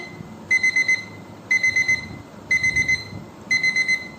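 A table alarm clock rings in repeating groups of four rapid electronic beeps, one group each second, close and clear over faint room noise.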